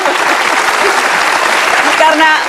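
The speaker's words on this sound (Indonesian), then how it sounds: "kita kasih tepuk tangan dong untuk keduanya" Studio audience applauding two guests on an Indonesian political talk show, a dense steady roar of clapping that fills the whole stretch at close range, with a voice starting to speak near the end.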